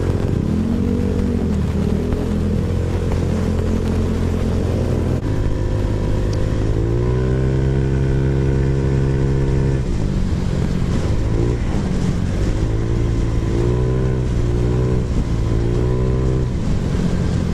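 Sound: Honda Click 125 motorcycle engine revving

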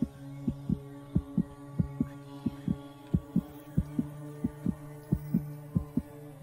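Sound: speeding-up heartbeat sound from the video game RarityGame.exe

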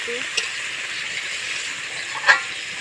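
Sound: chicken frying and being stirred in a pan

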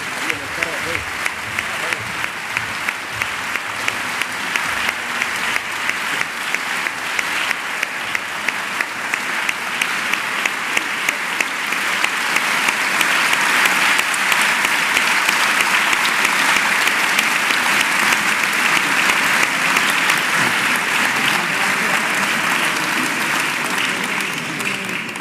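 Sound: loud audience applause

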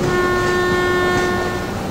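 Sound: locomotive horn of departing train, Trainz Simulator 12 video game

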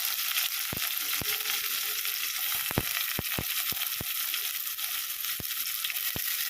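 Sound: onions sautéing in a pan

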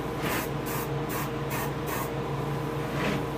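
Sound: airbrush spraying paint onto largemouth bass taxidermy

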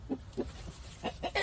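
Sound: chickens clucking

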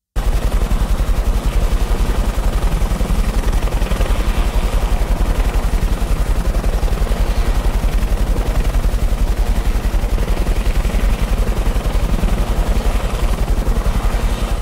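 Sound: helicopter sound effect panning from one side to the other

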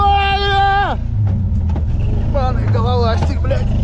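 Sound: Stels Guepard ATV engine running

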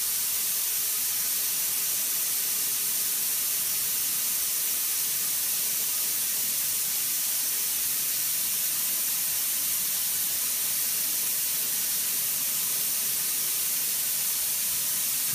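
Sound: compressed air released from Hydrovane compressor tank

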